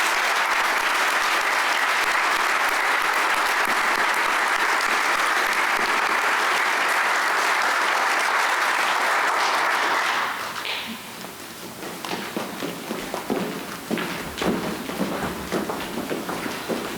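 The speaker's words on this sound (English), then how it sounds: "Please give these students a round of applause." Sustained applause from an audience at a high school scholarship night, loud and even for about ten seconds before fading into scattered claps and footsteps.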